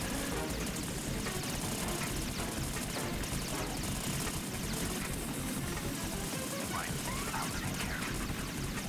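A Harrier jet hovering and flying during a boss fight in Metal Gear Solid 2, making a constant roaring engine drone with rotor-like whine, fairly quiet and unbroken, with no talk.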